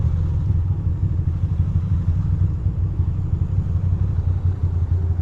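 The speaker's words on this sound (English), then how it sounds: "I really hope my bike doesn't stop running." A motorcycle engine runs steadily up close, a loud continuous low rumble and clatter with no break and no voices over it.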